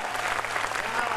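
Audience applause fills a Hindi poetry gathering honouring martyrs, a dense, steady wash of clapping from a large crowd, loud and continuous with no pause.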